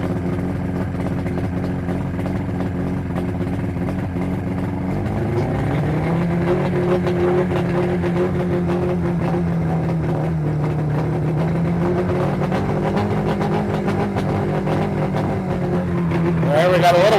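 A steady boat engine drone idles, then shifts to a slightly deeper, heavier running tone after a few seconds as it is put in gear, continuing evenly throughout.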